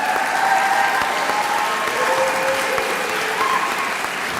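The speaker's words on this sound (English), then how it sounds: "round of applause" Applause at a Limerick college conferring ceremony for fine art graduates, a broad steady roar of clapping from a large hall audience, with faint sustained tones underneath.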